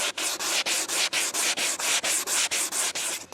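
A Flex ORE 5-150 orbital sander works the gaps between wooden deck boards, giving a loud, rough rasp in quick back-and-forth strokes of roughly a quarter second each, with no voices.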